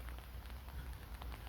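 Steady rain falling across a neighborhood park in Yeongwol, South Korea, a dense continuous patter with scattered close drops, loud and unbroken throughout with no voices.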